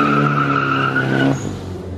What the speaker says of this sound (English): so we can drift around the drive-through and throw a donut into a car that's drifting